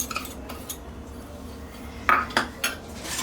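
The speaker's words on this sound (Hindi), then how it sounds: "चलिए ये गुड़ है, इसको अच्छे से कूट के मिक्स कर देंगे इसके अंदर" Jaggery is pounded in a bowl, heard as a few sharp, close metallic knocks and clinks near the end over a low background hum.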